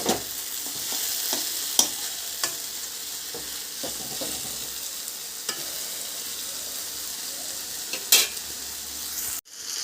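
Water lily stems (shapla) frying in a pan give a steady, close broadband sizzle, with occasional sharp clicks and scrapes of stirring, and no talk.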